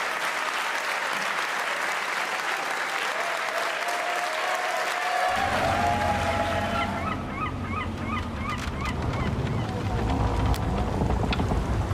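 A crowd claps in steady applause for a champion at a Red Bull Wololo Age of Empires tournament, joined partway through by a deeper rumble and honking, bird-like calls in the background.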